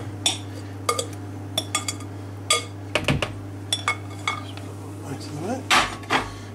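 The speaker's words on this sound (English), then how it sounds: "Now we're going to mix all that together." A utensil knocks and clinks against a bowl as pumpkin puree is mixed into pumpkin pie filling, giving scattered sharp taps and scrapes close by, with faint rustling between strokes.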